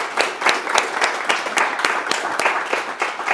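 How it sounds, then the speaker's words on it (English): An audience at a talk on long Covid breaks into a steady round of applause, dense overlapping claps sustained at even loudness throughout, close and full-bodied, with no voices standing out. "So I think they need a round of applause for me."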